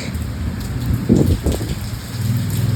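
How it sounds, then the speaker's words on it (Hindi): Heavy rain pours steadily on a monsoon day, with a dense even wash of drops close by and a louder burst of heavier patter partway through. "ये बारिश मेरे ऊपर ही आ रही है"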